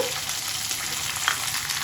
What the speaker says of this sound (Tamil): நல்ல சின்ன வெங்காயம் பூண்டு எல்லாம் நல்லா வதங்கட்டும்